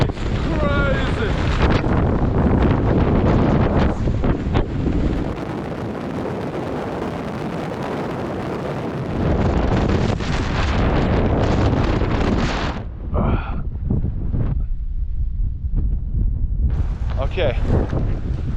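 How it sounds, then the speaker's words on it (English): Strong wind roars and buffets continuously, close and loud, while riding a freight train in Cambodia, easing briefly midway before gusting again, with a voice briefly heard at times. "The wind is crazy."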